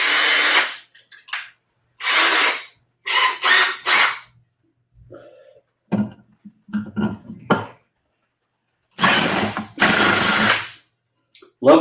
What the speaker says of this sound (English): Love it when the hole gets big enough that the drill just kind of goes